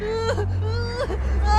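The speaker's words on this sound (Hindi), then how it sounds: "वह जोर जोर से रो रही थी।" A girl cries loudly and wails in a horror story sound effect, sobbing in wavering, rising moans over a low, droning background.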